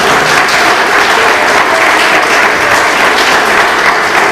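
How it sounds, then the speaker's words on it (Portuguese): Steady, loud applause from a church congregation fills the whole stretch, a dense wash of clapping with no pauses. "Vocês podem aplaudir a Jesus?"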